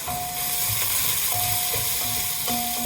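Onions sizzle and crackle in hot oil for a slow-cooked beef curry, a steady close frying hiss with occasional bright pops.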